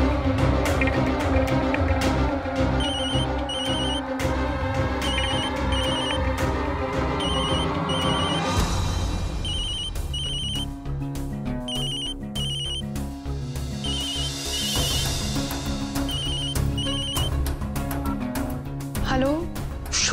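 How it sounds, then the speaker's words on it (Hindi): A telephone ringtone rings repeatedly in a steady electronic pattern, loud and continuous under a dramatic music score, with voices briefly heard. "शुक्र है पंखुड़ी जी, आपका फोन तो लगा।"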